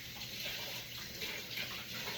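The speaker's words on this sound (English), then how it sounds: "So I'm just rinsing these off." Mead-making equipment is rinsed under running tap water, a soft, steady hiss of flowing water, fairly faint and continuous, with no talking.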